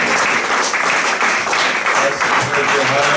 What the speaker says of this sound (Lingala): Est-ce que nous pouvons encore acclamer très fort?